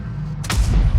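One heavy tank cannon shot in a tank battle game, a loud sudden boom after a moment of engine rumble, with a rolling low tail.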